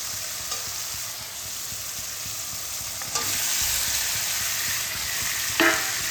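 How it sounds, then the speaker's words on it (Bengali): Fried pumpkin and potato pieces land in oil-soaked masala, raising a steady close sizzle with stirring scrapes and a brief louder burst near the end. "এবার আমি এর মধ্যে ভেজে রাখা কুমড়ো আলুটা দিয়ে দেব।"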